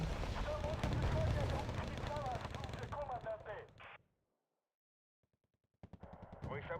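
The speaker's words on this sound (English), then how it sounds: "Internal ammo explosion." Internal ammo explosion inside a vehicle in the Wargame: Red Dragon video game, a loud burst of rapid cracking blasts under steady game noise and a talking voice, then a near-silent gap before the battle sounds return.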